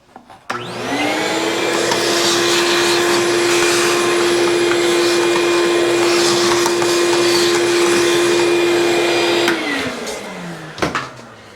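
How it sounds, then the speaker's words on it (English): A vacuum cleaner whirs on at full power with a steady loud drone, runs continuously for several seconds, then shuts off and winds down, followed by a couple of clunks. "I'm gonna vacuum this out a little bit."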